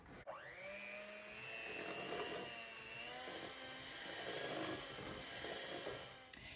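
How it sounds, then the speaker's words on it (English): Electric mixer blending ginger molasses cookie dough: a steady motor whir runs throughout, with the pitch wavering slightly as the beaters work the dough, loud and close. "And blend once again."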